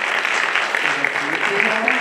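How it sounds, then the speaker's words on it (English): Applause from a conference audience, steady dense clapping filling the room, with voices talking over it. "Can we just get like a quick round of applause for the"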